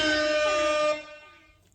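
Air-horn sound effect played through a JBL PartyBox 520 speaker, a single loud sustained blast that holds for about a second before fading out.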